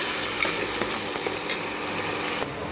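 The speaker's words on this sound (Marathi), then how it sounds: "टाकले मित्रांनो गरम तेलामध्ये आणि आता 1 चम्मच लसूण अद्रकचा आणि मिरचीचा आणि कोथिंबीरचा पेस्ट टाकला" A paste of garlic, ginger, green chili and coriander frying in hot oil, giving a dense, steady crackling sizzle with a few spoon stirs, close and loud, no talk.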